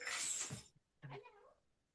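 A fluffy half Maine Coon cat gives two short, soft meows close by, the first higher and airier, the second a brief lower mew after a pause.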